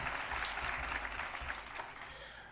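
A board meeting audience applauds honoured citizens, a short burst of steady clapping from a room of people that tapers off near the end.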